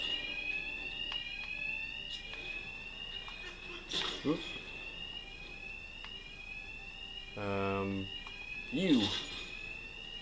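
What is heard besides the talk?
alarm ringing in Batman: Arkham Knight video game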